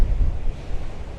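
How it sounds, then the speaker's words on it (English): Strong wind gusts off a rough sea buffet the microphone, a loud, steady low rumble with surf roaring beneath it and no voices. "You can probably see from how high the waves are, how bad the wind is, and you might be able to hear it on the microphone."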